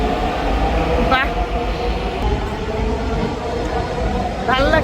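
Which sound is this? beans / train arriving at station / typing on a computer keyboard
train arriving at station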